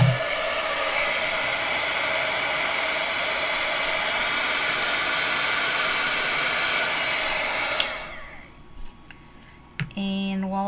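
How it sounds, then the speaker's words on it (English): A heat gun blows in a steady, loud, even whoosh while drying distress paint on a paper rosette, then shuts off after about eight seconds, leaving faint handling sounds. "we're going to use our heat gun for a minute again"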